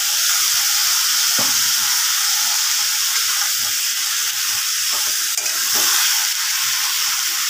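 Poppy seeds and onions sizzle and fry steadily in a pan, a dense continuous hiss with occasional stirring scrapes and no voices.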